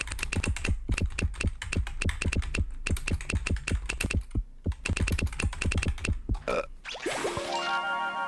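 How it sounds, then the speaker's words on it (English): Fast, steady clatter of keys on a computer keyboard during a quiz game, dense bursts of typing with brief pauses, then a bright musical jingle takes over near the end. "Start typing."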